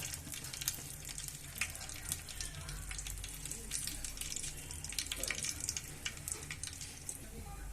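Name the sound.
mustard seeds spluttering in hot oil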